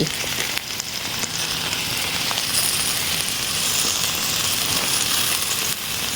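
Chinese kale with fresh shrimp stir-fries in a hot wok, giving a loud, dense, continuous sizzle with faint scraping of the spatula throughout.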